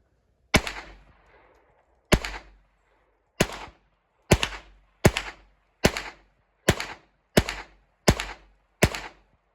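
Ten sharp, loud pistol shots from a Hi Standard Dura-Matic firing Federal rounds at 25 yards on an outdoor range, each a crisp crack with a short decay, the first spaced apart and the rest in a steady rhythm.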